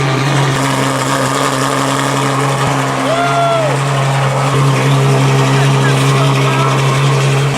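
A Ferrari fitted with a new tuned exhaust holds a steady, loud, close engine drone with a brief rising rev partway through.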